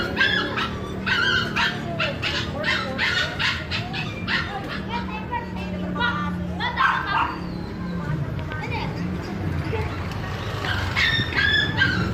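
A small dog barking, yipping and whimpering nearby in quick bursts, with people talking over the sounds throughout.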